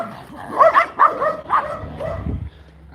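A dog barks and whimpers close by in a home, several short excited yips and barks over about two seconds before quieting.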